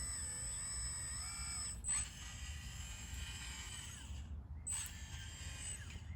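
A Kabolite 336 with a new hydraulic system runs slowly at reduced power, giving a steady mechanical whine and hum with a low rumble, broken by two brief changes in tone.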